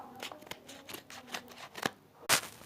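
A small fidget toy package is opened by hand, giving a quick run of crinkly rustles and tearing sounds with a louder rip near the end, close and fairly quiet, with no talking.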